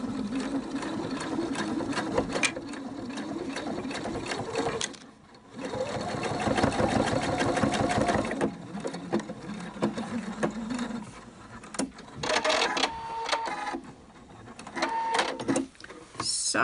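Sewing machine stitching a fabric face mask, a fast rhythmic mechanical whir that runs in bursts with short pauses between them, close and steady.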